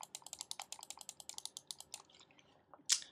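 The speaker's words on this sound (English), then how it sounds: "In terms of the Kinzu and the Kana, they're actually quite similar in terms of click or the hardness." Rapid, evenly spaced clicks from SteelSeries Kinzu and Kana computer mice, about a dozen crisp taps in quick succession, close up and fairly quiet, ending with a single sharper click.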